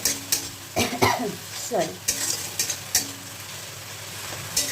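Kashmiri chilli masala sautéing in a pan for a magur fish curry, with soft sizzling and repeated scraping stirs of a spoon against the pan, close up, and a brief word spoken.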